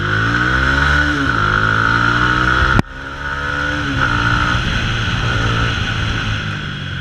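Modified Mahindra Mojo motorcycle accelerating hard, its engine note climbing steadily through the gears with a sharp shift break midway, loud and close with strong wind rush.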